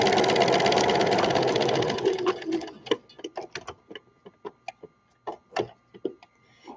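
Sewing machine stitching cotton fabric runs in a steady, fast continuous whir for about two seconds, then slows into separate irregular clicks and clunks as the stitching stops and starts, fairly close and alone with no talk.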